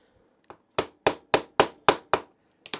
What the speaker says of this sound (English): I might have to use my hammer this time